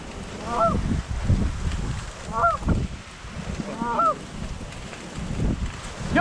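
Geese honk during a goose hunt, three short bursts of calls spaced a couple of seconds apart over gusty wind noise, fairly close.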